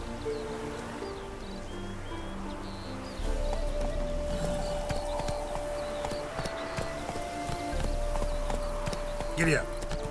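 Horse hooves clip-clop at a gallop in The Witcher 3, a steady rhythmic patter alongside game music and ambient tones, with someone talking over it.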